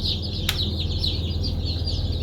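Many small chicks peep continuously in a dense, high-pitched chorus, close by, with a brief knock partway through.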